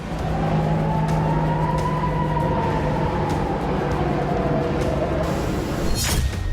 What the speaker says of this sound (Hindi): ड्रोन हमले से इलाक में सायरन बजने लगे।